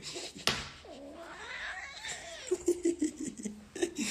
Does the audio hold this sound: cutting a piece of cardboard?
no